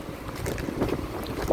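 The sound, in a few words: strong wind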